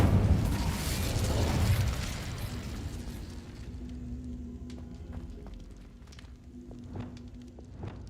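An Incendio fire spell in the video game Hogwarts Legacy erupts as a loud whooshing blast that fades into crackling, with sparse clicks and tones trailing afterward.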